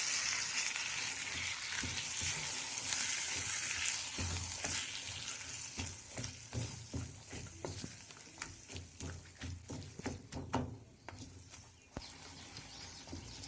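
Blended tomatoes frying in a pan for vegetable Hakka noodles make a continuous spluttering sizzle, with a run of sharp scraping and clattering stir strokes in the second half, fairly quiet and without voices.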